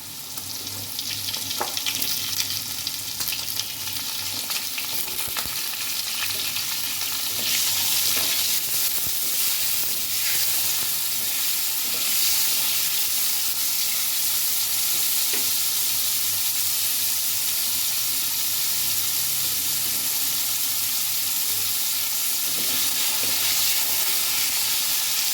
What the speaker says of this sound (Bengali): আলু মূলো একটু হালকা করে ভেজে নেব।